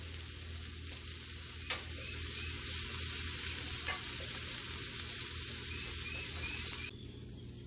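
Diced brisket frying on a Camp Chef Explorer griddle, a steady close sizzle with a bit of stirring and scraping, broken by a couple of brief clinks, no voices.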